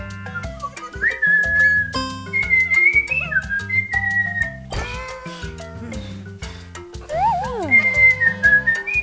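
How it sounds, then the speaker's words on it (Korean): Bright, wavering whistled notes come in short phrases over a steady, rhythmic backing track, with a few higher sliding tones near the end. "와, 휘파람 잘 분다."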